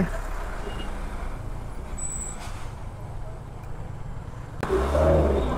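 Night road traffic passing while riding motorbikes in heavy rain toward Rangamati, a steady broad roar of engines and wet road noise, rising louder near the end as a heavier vehicle draws close.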